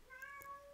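A pet cat gives a single brief, tonal meow indoors, soft and slightly distant, alone without talk.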